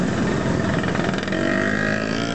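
A motorcycle engine runs steadily at night on a street, a child asleep on the bike, with a continuous close drone and no talk.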